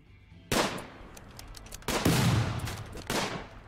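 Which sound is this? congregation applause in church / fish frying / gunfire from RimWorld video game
gunfire from RimWorld video game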